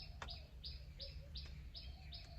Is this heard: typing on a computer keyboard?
no